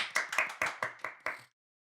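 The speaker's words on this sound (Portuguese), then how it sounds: "Uma salva de palmas." A short burst of hand clapping on a podcast, about seven sharp claps in an even quick rhythm, close and clear, then silence.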